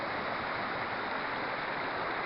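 A Scottish river flows close by in a steady, even hiss of running water, with nothing else heard.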